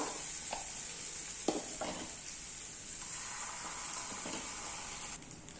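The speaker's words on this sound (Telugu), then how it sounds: "అల్లం వెల్లుల్లి పేస్ట్ ఫ్రై అయిపోయిందండి" Ginger garlic paste frying in a pan with cooked-down tomato pieces, a low continuous sizzle broken by a few light clinks and scrapes of a stirring spoon, faint and steady throughout.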